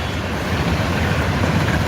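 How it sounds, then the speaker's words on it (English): A train rolls past close by, a loud, steady rumbling roar of rail cars with a faint clatter, filling the moment without any voices. "I hear a train a-coming"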